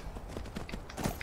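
Horse hooves clopping in the Skyrim video game, a quick run of close, evenly spaced thuds over a busy game backdrop.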